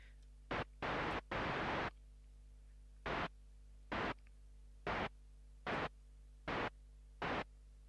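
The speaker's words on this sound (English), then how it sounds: "Our little white noise note." Bursts of white noise from a Micrologue synthesizer, a few short hisses then longer blasts, followed by evenly spaced short bursts over a faint electrical hum.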